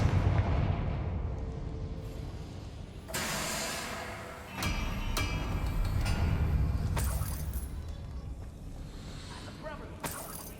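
Confringo, the explosive spell in the Hogwarts Legacy video game, goes off in several sharp blasts and bursts over a rumbling low din of in-game ambience.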